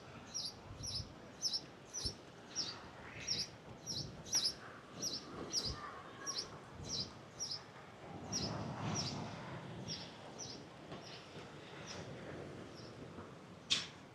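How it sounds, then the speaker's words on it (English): Small birds chirping along a seaside promenade in Costa Teguise, Lanzarote, a quick string of thin repeated high tweets over faint outdoor ambience, quiet and a little distant. "Can hear the birds tweeting over my shoulders here."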